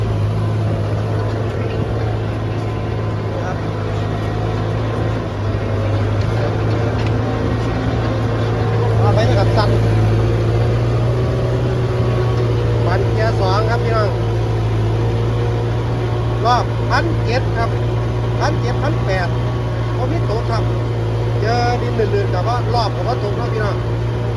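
A Kubota M6240SUH tractor with a rotary tiller runs in second gear, its engine a steady, loud low drone throughout, with voices faintly audible over it.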